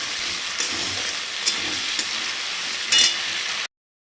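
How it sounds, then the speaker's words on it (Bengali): Potatoes and chickpeas fry in a pan with a soft, steady sizzle and a few light stirring clicks, heard close with no talk, ending abruptly. "আমি ছোলাটা আলুর সঙ্গে ভালো করে ভেজে নেব।"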